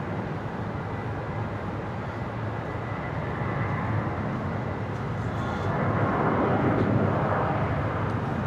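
Velocity 1641 airliner on its takeoff roll at Brisbane Airport, a steady, fairly distant jet roar that swells louder toward the end, with no talking.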